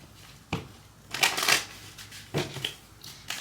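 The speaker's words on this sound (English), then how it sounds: "Let me shuffle because too many cards flew out." Tarot cards are shuffled by hand in several quick, close riffling bursts with short pauses between them, with no talk.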